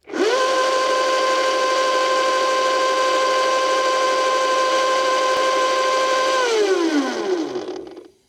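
The electric motor of a Valtinsu EM5 dirt bike runs unloaded in mode 3, whirring up fast to a steady high-pitched tonal whine that holds loud and even for several seconds, then falls away as it spins down.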